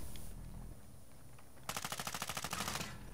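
Automatic gunfire in the video game Modern Warfare 2 starts after a quiet stretch as a rapid, steady burst of about a dozen evenly spaced shots, close and loud, then stops abruptly.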